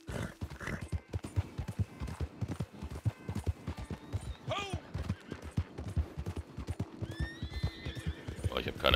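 A horse ridden through Strawberry in Red Dead Redemption 2 online: a steady clip-clop of hooves runs throughout, with a couple of whinnies partway and near the end, and a person talking over it.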